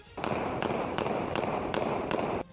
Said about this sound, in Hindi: एक वकील सड़क पर चलते हुए AK-47 राइफल से हवा में अंधाधुंध फायरिंग करता नजर आया